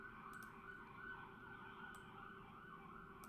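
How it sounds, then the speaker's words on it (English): Sirens wail faintly outside, a quiet, steady, drawn-out tone that sits low and distant beneath the room with no one speaking. "I hope you can't hear the sirens going off."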